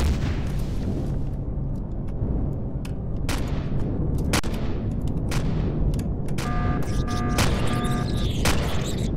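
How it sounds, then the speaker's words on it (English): Gatling gun fire against shields in the space survival game Empyrion Galactic Survival, dense continuous rattling bursts mixed with heavy booms and impacts, loud and sustained, with electronic tones near the end. "Maybe we can Gatling gun the shields down."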